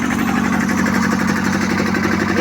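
A small tractor engine idles steadily close by during a day of hauling firewood, a continuous low rumbling drone with constant loudness and no speech.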